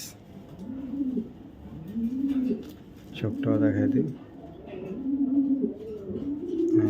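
Foreign racer pigeons coo in repeated low, throaty phrases close by, while a person speaks briefly over them.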